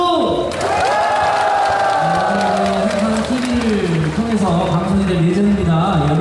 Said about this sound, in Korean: 함성과 함께 박수!